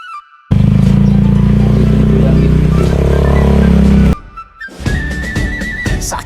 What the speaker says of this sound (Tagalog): Sakay sa motor, simula ng adventure.